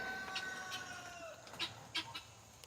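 A male bird at an animal sanctuary gives a run of short, chicken-like clucks and calls, some rising and trailing off, heard at moderate distance over a low steady background.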